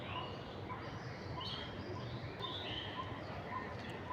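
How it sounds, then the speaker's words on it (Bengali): Faint, scattered bird calls drift over a steady hum of outdoor background noise beside Dhanmondi Lake in Dhaka, the chirps brief and distant. "এখানে পাখির ডাক শোনা যায়"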